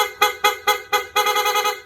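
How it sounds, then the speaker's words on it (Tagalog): A loud aftermarket PA horn with a rapid-horn setup on a Toyota Supra blasts in four quick separate toots, then a faster run of rapid pulsing honks, close by and piercing. "Loud horn, PA horn with rapid horn setup,"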